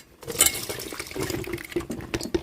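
Brine from salted baby mangoes is strained out for pickle: liquid pours and splashes into a vessel with soft trickles and a few light clinks of kitchenware.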